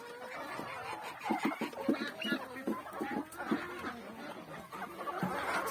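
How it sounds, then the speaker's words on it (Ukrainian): Bantam chickens and a small speckled bantam cross rooster in a backyard flock, with a run of short, irregular clucks and chuckling calls close by, rising and falling over several seconds. "Ось помість курочок півник, ото рябенький маленький, то бентамка."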